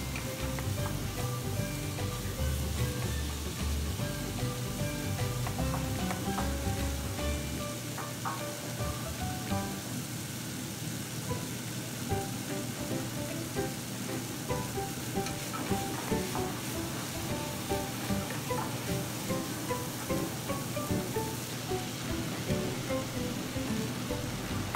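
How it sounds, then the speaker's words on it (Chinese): Shredded carrot stir-fried in a wok for sweet potato noodles, giving a steady, close sizzle with the rhythmic scrape and toss of stirring throughout, no voices. "胡萝卜丝呢稍微炒的时间要这个久一点啊"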